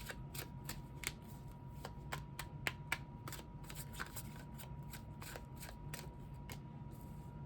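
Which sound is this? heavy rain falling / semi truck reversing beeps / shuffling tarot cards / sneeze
shuffling tarot cards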